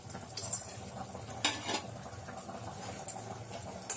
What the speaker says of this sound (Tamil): இப்போ நம்ம அரிசியை போட்டுக்கலாம்.